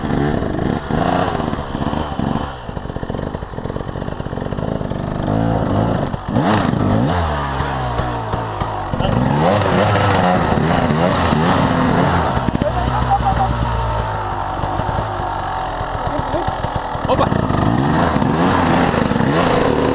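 An enduro motorcycle engine revs and drones continuously at a dirt-bike event in Fréjus, loud and close, with voices talking over it throughout.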